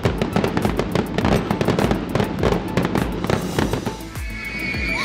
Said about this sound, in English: I wonder why fireworks are so loud.